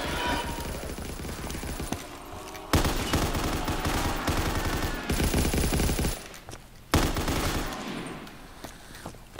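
StG assault rifle gunfire in a video game, loud sustained bursts of rapid automatic shots separated by brief pauses, with other game sounds mixed in.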